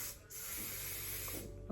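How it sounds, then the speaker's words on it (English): A spray bottle mists onto a makeup brush in a quiet indoor setting, one soft, sustained hiss lasting over a second, close and faint, with no talking. "Okay, so I sprayed my brush."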